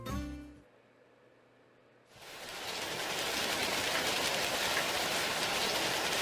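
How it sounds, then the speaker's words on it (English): Steady rain pours down in the video game NinNin Days, starting after a brief quiet gap and continuing as a dense, even hiss that fills the rest of the moment alone. "Aw, man, rain."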